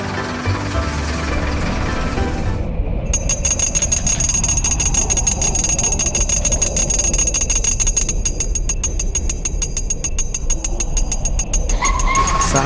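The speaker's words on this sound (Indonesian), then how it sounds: "di depan ada perlintasan kereta api yang menutup. Mohon bersabar sampai kereta selesai melintas." A loud rumble of a train passing a railway crossing dominates, with a steady rapid clatter of wheels over rails and a low engine drone throughout.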